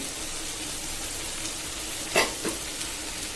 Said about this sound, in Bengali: আর এদিকে আমার বরবটি শিম ভাজিটা দেখুন।